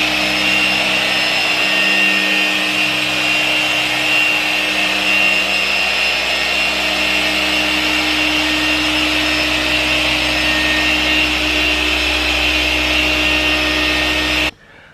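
A machine polisher refining the paintwork of a Porsche 996 runs as a loud, continuous steady whir and hum close by, holding an even drone until it stops abruptly at the end.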